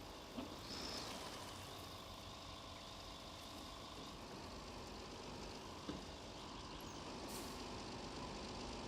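A vehicle engine rumbles faintly outside, a low steady drone as it passes at a distance.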